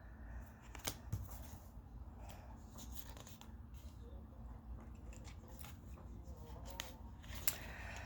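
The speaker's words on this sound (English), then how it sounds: "I'm going to shuffle" Tarot cards being shuffled by hand, soft papery riffles and slides that come in short bursts with a few sharper flicks, close and fairly quiet, with no talk.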